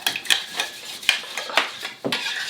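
Spoon stirring a thick, creamy homemade edible finger paint mixture in a bowl, with repeated close scraping and clinking strokes against the dish in an irregular rhythm.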